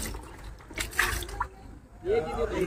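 Water sloshes and splashes in irregular bursts, like a bucket being rinsed, with faint background voices.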